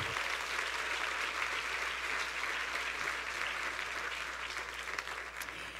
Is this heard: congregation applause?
yes